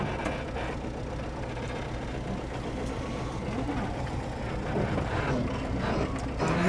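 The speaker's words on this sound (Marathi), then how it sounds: "टेम्पो आवाज सेम तसाच येतोय" A tempo truck engine, said to sound just like a state transport bus, runs steadily in a Konkan village, a continuous low rumble that grows slightly louder toward the end.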